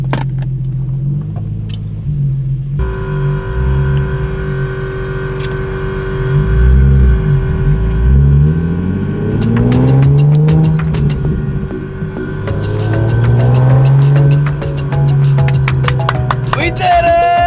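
A big-turbo Nissan 370Z running about 600 whp on a fresh stage 4 six-puck clutch drives off. Its engine drones loudly and steadily, then climbs and falls through several revving pulls heard from inside the car.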